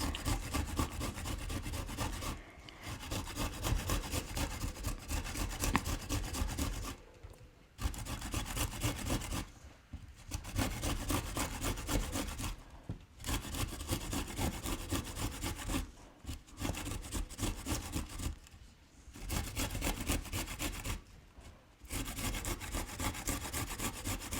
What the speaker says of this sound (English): So I'll grate this amount, which probably will make about 1 tablespoon.